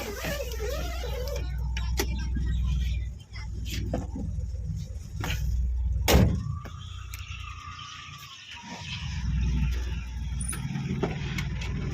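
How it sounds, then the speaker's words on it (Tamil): A 2009 Maruti Omni van with a carburettor, running on petrol or gas, is driven with a steady low engine hum close by, briefly dipping and picking up again, with a few clicks, faint bird chirps and some speech. "வண்டி எடுத்து ஓட்டி பார்ப்போம்."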